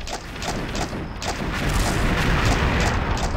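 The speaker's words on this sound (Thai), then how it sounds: "ยิงรัวๆครับ" Sustained rapid gunfire in the Xshot shooter game during a deathmatch, dense repeated bursts of shots running continuously at a steady loud level with no pauses.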